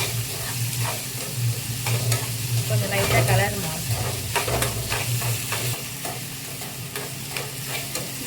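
Onions sautéing in a pan, a steady loud sizzle with continuous stirring and scraping strokes of a utensil throughout.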